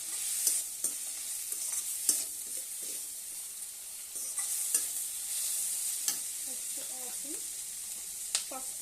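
Potatoes and onions for an aloo tomato curry sizzle steadily in a pan while a spoon scrapes and stirs in irregular bursts, a constant hiss under sharp clicks of utensil against metal.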